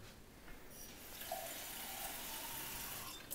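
Water being poured from a tap-like stream to water a houseplant, a soft, steady trickle that swells and keeps going for a few seconds in a quiet indoor room.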